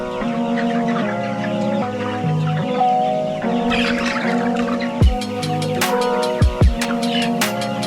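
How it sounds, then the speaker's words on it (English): Chickens clucking in a backyard coop, repeated close clucks and calls from several birds over a steady background, with a few sharp knocks and thuds toward the end. "Don't be scared of them, they're just chickens."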